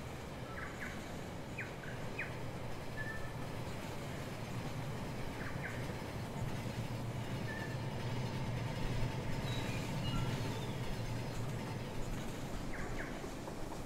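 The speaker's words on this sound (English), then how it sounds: "Now we got three train going around." Model trains circling a layout in the Rolling Line video game, a steady low rumble running throughout with faint repeated chirp-like tones above it, no talking.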